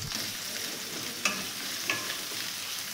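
Onions frying in white oil in a wok, a soft, steady hiss of sizzling broken by two brief stirring clicks.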